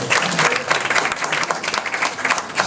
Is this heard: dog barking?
no